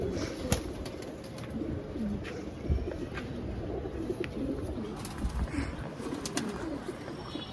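Pigeons coo softly amid steady rustling and background noise, with occasional sharper taps; no one speaks.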